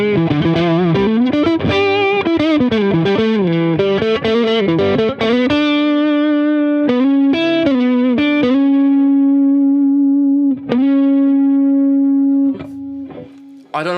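Electric guitar through a Harley Benton Tube15 tube amp with gain added, a run of driven chords and notes that settles into a long sustained ringing note, loud and close with no talking.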